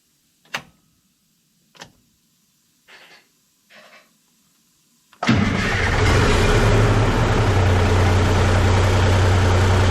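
Several sharp clicks and short cranking bursts from a 5-ton crew cab truck engine, then it fires up for the first time and settles into a loud, steady, roaring run close by.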